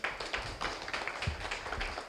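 Audience applause at a mainnet launch event, a dense spread of claps filling the room at moderate level with no voices over it.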